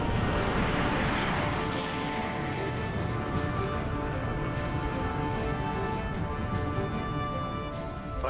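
An aircraft flies in on approach for landing, its engine a loud, steady broadband roar with a slowly shifting whine, close and continuous throughout without any voices.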